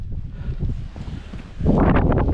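Wind buffets the microphone on the mountain ridge at Dow Crag, reached via Walna Scar Road, as gusty rumbling that swells into a louder, steadier roar toward the end.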